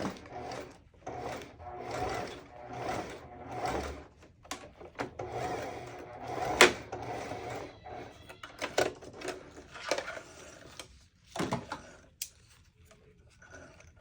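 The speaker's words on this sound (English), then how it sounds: "So stitch a little and then back stitch and then keep sewing." A sewing machine stitches ribbon onto ruffle socks in bursts of rapid mechanical chatter, stopping and restarting for short back stitches, with some rubbing and handling noises between runs.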